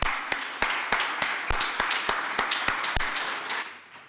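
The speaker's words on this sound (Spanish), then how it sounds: "Así que os voy a pedir un fuerte aplauso." Audience clapping at a business conference on worker-owned companies, a sparse, rhythmic applause of sharp individual claps in a steady beat that fades out near the end.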